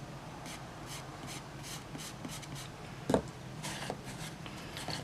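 Soft pastels from Artist Loft rubbing and scratching across paper, a steady close grainy rasp of quick strokes with a sharper scrape near the middle.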